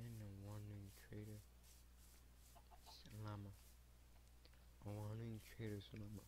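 Minecraft chickens cluck repeatedly in short bursts, close and clear, over a steady low hum, with a brief voice murmuring between calls.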